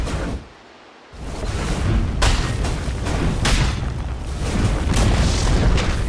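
A tower crumbling under attack in the game Dota 2, with a loud boom and a rumbling, crashing collapse after a brief lull, followed by sustained debris noise.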